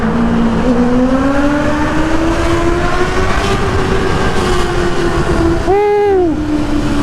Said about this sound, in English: at least we can probably enjoy the sound of the exhaust again